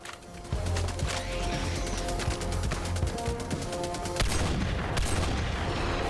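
Rapid, sustained automatic fire from a sentry turret shooting at chargers in Helldivers 2, a dense rattling stream of shots over a low rumble, broken by a heavier boom near the end.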